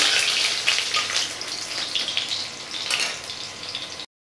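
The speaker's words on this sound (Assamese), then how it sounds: "তেলখিনি গৰম হৈছে, এতিয়া আলুখিনি মই দি দিছোঁ। একেবাৰে ৰঙা হোৱালৈকে মই ভাজি থাকিম।" Potato pieces fry in hot mustard oil in a home kitchen pan, giving a steady, bright sizzle and crackle close up that holds throughout and stops abruptly.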